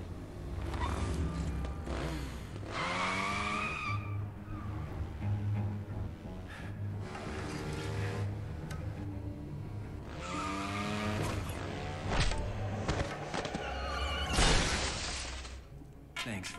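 Motorcycle engine and tire skidding in the video game Dead Rising 2, a continuous loud engine roar with repeated screeching skids and squeals rising and falling over the run, along with crashing noises.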